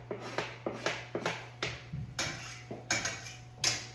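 Diced garlic tossed into a pan with cooking meat for stuffed bell peppers, heard as a run of sharp, close clinks and taps of a utensil against the pan, repeating every half second or so over a low steady hum.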